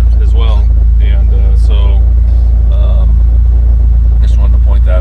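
A 1978 Datsun 280Z with an L28 engine cruises along, a constant deep engine drone heard from inside the car beneath someone talking throughout.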